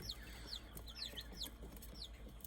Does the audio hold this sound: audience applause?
no